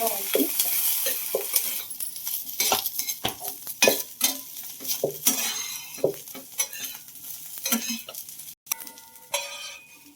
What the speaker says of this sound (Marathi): आपल्याला तेलामध्ये फ्लावर थोडा पल परतून घ्यायचा